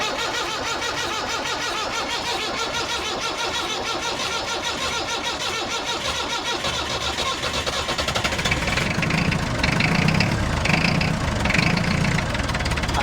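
A 1962 Lancing diesel forklift engine cranks and churns in a steady, rough mechanical drone, growing louder and heavier toward the end as it seems to catch, close by with no talk over it.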